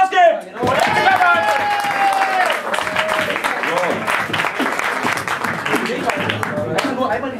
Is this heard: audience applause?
yes